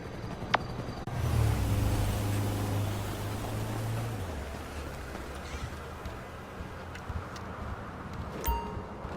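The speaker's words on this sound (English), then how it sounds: "That's the garbage truck." A garbage truck nearby, a loud low engine drone and whine swelling after a sharp bang, then settling into a sustained rumbling hiss with intermittent clanks.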